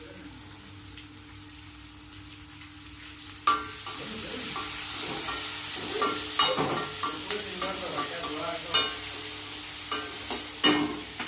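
Ginger, garlic and byadgi chili frying in a pan, a soft sizzle at first, then louder crackling and repeated stirring scrapes at irregular intervals.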